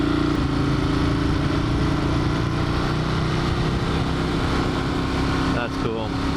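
A Ducati Monster 1200 motorcycle ridden on the road, its engine a steady, loud drone with wind rush throughout, ending with a brief revving shift near the close.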